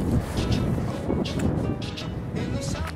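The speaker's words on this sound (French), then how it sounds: "Dans cette région, c'est vraiment pas facile parce qu'il y a beaucoup de vent." Wind on the Chasseral buffets the microphone in a steady, heavy low rumble that swells slightly in gusts throughout.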